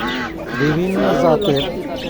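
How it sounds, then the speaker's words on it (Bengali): Roosters and hens at a market cluck and squawk close by in a brief, busy burst against a noisy background. "এখানে বিশাল বড় বড় মোরগ আছে, মুরগি আছে"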